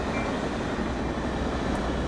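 A passing train in Train Sim World 2020 on the Caltrain line, a steady broad rumbling rush with no clear peaks, moderately loud and continuous, with no voices.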